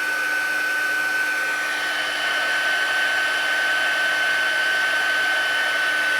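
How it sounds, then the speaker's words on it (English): An embossing heat tool blows hot air with a steady, loud whirring hum and airy hiss that holds unchanged throughout, close by and alone. "I'm gonna emboss this with my embossing tool."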